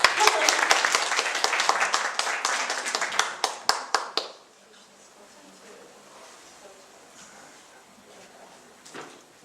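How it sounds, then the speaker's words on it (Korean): Welcoming applause from a small audience at a talk introducing a volunteer with a missions group, brisk clapping for about four seconds that tapers off into quiet room tone with a faint stray sound near the end. "환영의 박수."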